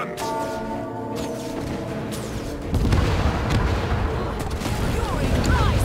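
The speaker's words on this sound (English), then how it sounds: "Fire all cannons." Cannons fire in Guild Wars 2 during a team battle at a dock, heavy booming blasts rolling over a busy game soundscape that turns louder and denser partway through, with no clear talk.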